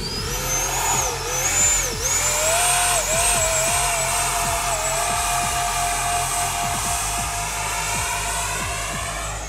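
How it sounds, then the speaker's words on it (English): An RC Gripen jet with a 3658-2150kV motor on a fresh high-voltage battery hovers close by, giving a loud, continuous, high-pitched electric whine that rises and dips with throttle corrections throughout. "Can't believe we are hovering Gripen."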